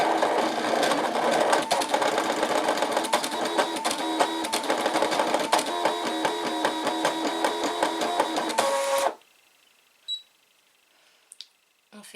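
A ScanNCut cutting machine draws with felt-tip pens, giving a steady, close mechanical whir with rapid rhythmic clicking and ticking for about nine seconds before stopping, followed by a few faint clicks.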